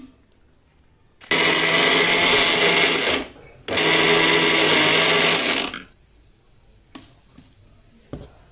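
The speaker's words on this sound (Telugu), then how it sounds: "మీకు మిక్సీలో వేసుకుందాం" A kitchen mixer grinder whirs loudly in two long bursts of about two seconds each, grinding roasted lentils into a coarse powder, followed by quieter knocks and handling sounds.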